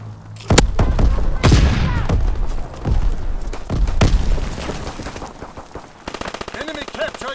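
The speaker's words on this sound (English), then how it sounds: "Pilot inbound, strafing the target." An aircraft strafing run in Call of Duty: WWII during a domination match on the Shipment 1944 map: loud, close bursts of heavy gunfire and booming impacts, ending in a rapid rattling stream of shots.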